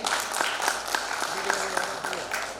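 Audience applause at a literary event in Bhopal, dense clapping from a seated crowd, steady throughout with a faint voice underneath.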